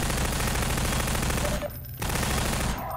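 Sustained rapid gunfire in Half-Life 2, loud and dense bursts nearly filling the stretch, with a brief pause in the middle before the shooting resumes.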